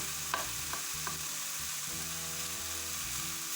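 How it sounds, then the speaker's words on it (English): Beef mince frying in a pan for one-pan pasta, broken up with a utensil: a continuous close sizzle with repeated scraping and prodding strokes and occasional light knocks. "I'm just a little bit obsessed with breaking up the mince"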